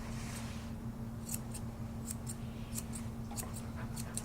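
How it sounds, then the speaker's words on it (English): Scissors snipping around a cut of meat near the rib cage, a series of crisp metallic clicks spaced irregularly over a steady low hum, fairly close and alone without talk. "Just make sure the scissors are always staying at the angle you're using them at."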